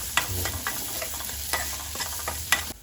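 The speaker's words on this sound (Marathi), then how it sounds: "सर्व मसाले परतून घ्यायचे." Spices including red chilli powder and salt stirred and sautéing in a hot pan, a steady sizzle with repeated scraping stir strokes about every half second, close and continuous.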